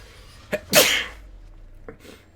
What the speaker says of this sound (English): There's that sneeze I've been holding in.